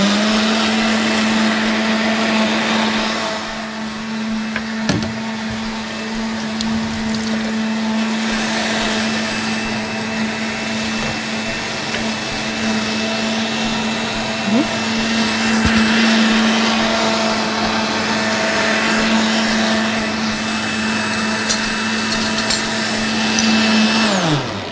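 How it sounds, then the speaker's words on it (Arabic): A kitchen blender whirs steadily, mixing a caramel milkshake with sugar and caramel, its motor holding one loud, even drone for the whole stretch with small shifts in pitch. "بس نضرب بقى كله مع بعض"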